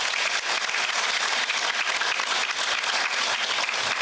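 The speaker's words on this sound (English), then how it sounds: "Big round of applause for him." A crowd at a company success meeting gives a big round of applause, a thick steady roar of many hands clapping together, loud and continuous from start to finish.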